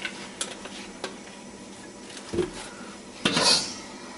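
A battered old wok is handled on a kitchen stove, giving a few sharp metallic clinks and scrapes spaced apart, then a louder clattering knock and rattle near the end.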